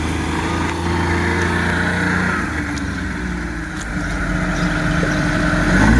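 A loud engine runs steadily at a building site where cement is being delivered, a continuous mechanical drone with low harmonic bands and slight rises in level, with no speech over it.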